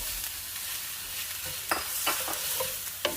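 Sausage frying in one pan with onion and rice gives a steady close sizzle, broken by a few sharp scrapes and knocks of a utensil stirring the pan.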